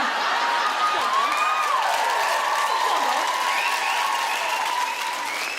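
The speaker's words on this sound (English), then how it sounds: "That would always get such a big cheer" A comedy show audience at the Edinburgh Fringe applauds and cheers: dense, sustained clapping with scattered whoops and high cheers, loud and close throughout and gradually easing toward the end.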